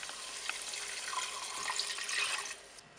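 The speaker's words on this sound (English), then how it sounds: "So we will add water" Water pours steadily into a cooking pot of sauteed food while a budget family dinner is made, a continuous close splashing rush lasting about three seconds with no talk.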